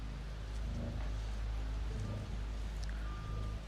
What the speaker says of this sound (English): My gosh, it's raining so much.